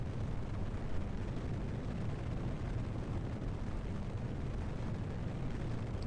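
A steady, loud roar of rocket engines at full throttle in Kerbal Space Program, a broad rumbling blast that holds constant for the whole stretch without any voices.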